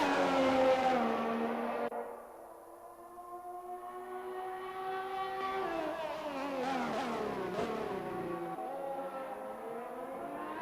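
Haas Formula 1 car in a racing video game at the China circuit, rolling slowly through the final corner: a steady, loud, whining engine note whose harmonic pitch dips, then climbs and wavers through the whole stretch.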